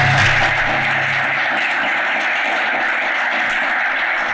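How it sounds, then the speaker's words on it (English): Audience applause for a panel at a church Q&A event, a dense, even wash of clapping, loud and continuous for several seconds with no talk over it. "If we could get one more round of applause for our panel here."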